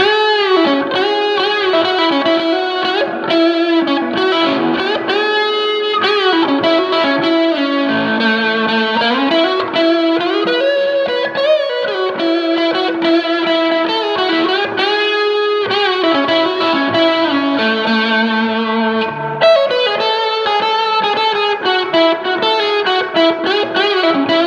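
Loud, continuous overdriven electric guitar through a Fender Blues Junior IV tube amp, pre-volume cranked, master low, reverb cranked, playing chords and riffs with a thick, saturated tone and a wash of reverb, no voices.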